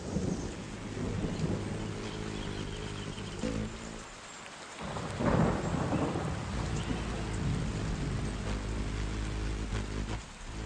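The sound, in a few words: rain with thunder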